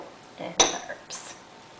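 Utensils clink against a bowl or pan while ratatouille vegetables dressed with olive oil, balsamic vinegar and herbs are mixed: a sharp metallic knock followed by a softer scrape and a second light clatter, fairly quiet and close.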